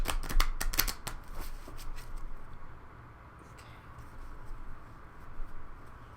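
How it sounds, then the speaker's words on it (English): Tarot cards are shuffled close by in a quick burst of crisp riffling snaps, then a softer, quieter shuffling of cards continues with light patter. "I'm going to do a shuffle here while you finish up."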